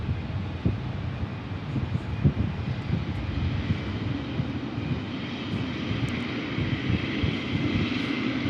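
A FedEx Boeing 777 departing Memphis International Airport, a continuous heavy jet roar at moderate distance with a faint high whine and some wind buffeting on the microphone.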